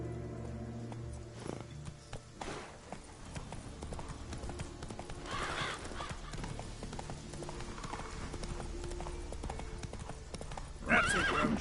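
The horse Roach clip-clops along at a steady, rhythmic gait in The Witcher 3: Wild Hunt on PS5, with occasional whinnies and ambient game music beneath the hoofbeats.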